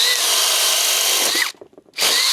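A Metabo HPT DV36DC hammer drill bores through wood with a 1-inch Diablo Speed Demon bit, a loud, steady high-pitched whine that cuts off abruptly, pauses briefly, then resumes at full volume.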